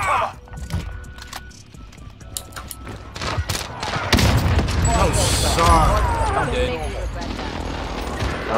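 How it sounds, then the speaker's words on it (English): Airstrike in Warzone, with bursts of booms and gunfire rising to a sustained loud barrage in the second half, mixed with game effects and voices. "Enemy protected airstrike. Take cover!"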